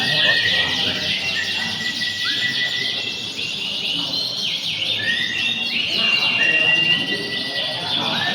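Canaries at a songbird contest sing in dense, continuous high trills and chirps, many birds overlapping loudly, with faint voices talking underneath.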